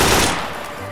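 Gunfire from a minigun in the Garry's Mod DarkRP video game, a loud, dense burst of rapid shots that fades over one second.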